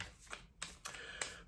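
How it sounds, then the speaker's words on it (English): Tarot cards shuffled by hand at a drag tarot reading, giving three or four short papery riffling bursts close by, each separated by a brief quiet gap. "Just give the cards a bit of a shuffle."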